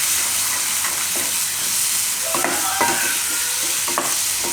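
A spoon stirs taro and potato curry mixed with yogurt in a pan, making repeated scraping and clattering strokes over a gentle background sizzle, close and fairly loud. No voices are present.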